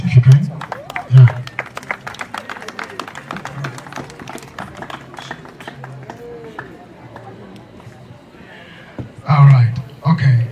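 Wedding guests clap in several short bursts, loud near the start and again at the end, with a quieter stretch of talk and crowd murmur in between.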